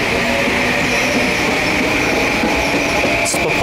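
An M8 commuter test train's propulsion system runs at Southport, a loud, steady electric hum and whine over rumbling, rattling car noise heard from on board.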